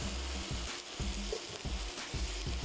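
Minced garlic sizzles steadily in hot oil in a pot for a keto chicken tortilla soup, a loud continuous frying hiss with soft periodic pulses and no talk.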